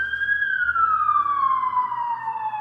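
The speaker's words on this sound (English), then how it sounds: "Can you hear the sirens?" An emergency vehicle siren's tone slides slowly downward, loud and clear, heard alone against a quiet low rumble of a downtown street.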